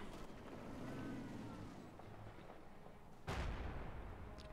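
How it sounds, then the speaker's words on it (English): Artillery fire in the video game Company of Heroes 2, a low rumbling battlefield din with one sharp, heavy impact boom near the end, heard without talk. "And more artillery is landing."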